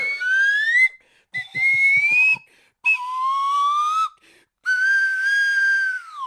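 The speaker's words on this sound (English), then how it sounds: "Dude, that's the longest slide whistle." A slide whistle plays alone in four long, loud phrases separated by short silences. Each phrase is a smooth, sustained tone that glides slowly up and down.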